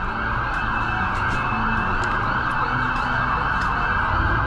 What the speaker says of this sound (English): Sirens coming. Sirens aplenty coming.